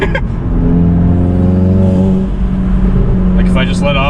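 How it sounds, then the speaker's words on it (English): A VW Golf GTI MK7 fitted with an IE turbo inlet revs up, its engine note climbing loudly and close with a rising turbo whine, then easing off into faint whooshing at the end. "if I just let off and then just immediately step on it. It's only like a second before it's spooled up"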